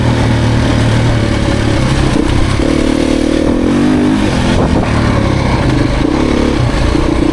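A 2023 Beta Xtrainer dirt bike engine brakes through slick turns, its single-cylinder note loud and close, rising and falling as the throttle closes and opens between corners.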